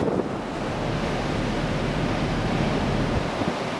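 Tremendous ocean waves and surf during a hurricane roar in a steady, dense wash of noise, loud and continuous, with wind buffeting the microphone throughout.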